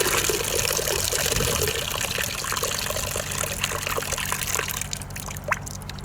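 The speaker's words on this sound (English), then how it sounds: "open up all the valves to flush out any of the debris that collected in there" Water rushes and gurgles steadily as it flushes out through the open valves of a Goldrop magnet sluice, a continuous loud wash with small splashes and trickles toward the end.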